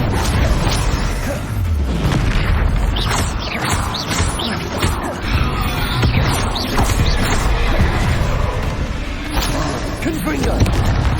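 Repeated Bombarda blasting spell impacts in Hogwarts Legacy, loud crashing bursts and smashing booms in dense succession over a constant rumble of game sound, with voices calling out over the din.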